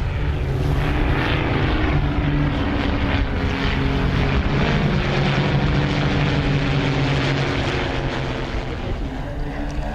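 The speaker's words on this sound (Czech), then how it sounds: "A to už je skupinové vystoupení na letounech Zlín." A group of Zlín propeller aircraft flying an aerobatic display at an airshow drones loudly and steadily overhead, engines humming in a sustained roar that fades slightly toward the end.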